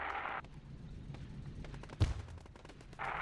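Valentine tanks firing in the video game Theatre of War 2, set in Africa in 1943 at the Kasserine Pass: one sharp, heavy cannon shot stands out midway, with scattered distant battle pops around it and no speech.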